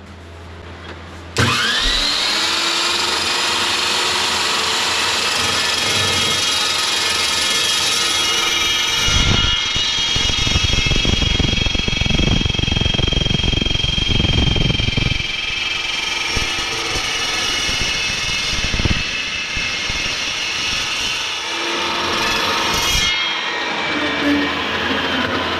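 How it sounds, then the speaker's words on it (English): A chop saw whines up to speed and bites through square metal stock in a fabrication shop, a loud sustained scream with a rougher grinding stretch mid-cut, then spins down. "I'm gonna cut this in half on the chop saw, clean it up and everything, put it in there and weld her up."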